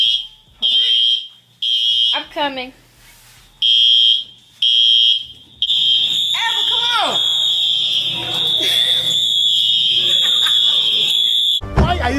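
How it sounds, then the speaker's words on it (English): A dormitory fire alarm blares in a loud, piercing tone, sounding in bursts at first and then continuously, while a person speaks briefly over it. "The fire alarm goes off."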